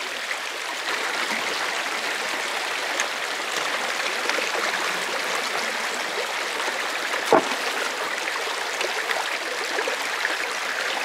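Water runs steadily through a gold prospecting sluice set up outdoors in Wisconsin, a continuous close rushing trickle with one brief sharp knock partway through and no talking.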